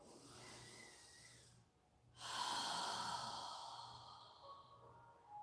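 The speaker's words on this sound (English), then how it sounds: "we're going to inhale through our nose and exhale through our mouth. So take a deep breath and inhale." A deep breath drawn in through the nose during a yoga session, a breathy rush that stops, then a longer, louder airy breath that slowly fades, heard alone and close.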